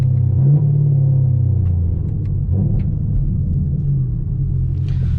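A modded Camaro ZL1 gives a loud, deep engine rumble while driving, with a continuous low drone and brief swells as the throttle shifts.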